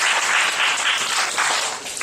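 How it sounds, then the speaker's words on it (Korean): A group at a youth church service claps together in a brief burst of applause, dense and even, then tapering off slightly. "박수 한번 주세요."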